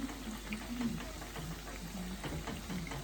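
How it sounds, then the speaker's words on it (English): Jamaican festival dumplings frying in oil, giving a soft, steady sizzle and crackle with faint low tones underneath, close but fairly quiet. "Make sure that your festival is fried nicely and on both sides"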